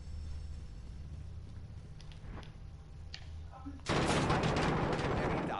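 Video game gunfire rattles in the background over a low hum, then bursts into a loud, dense volley of shots near the end.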